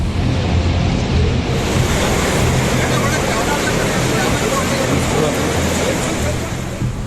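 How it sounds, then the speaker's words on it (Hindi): Muddy river water surges through debris after the Wayanad landslide, a loud, steady roar of rushing floodwater with broadband churning noise throughout. "मलबे के बीच मटमैली नदी की लहरें उठती दिख रही हैं।"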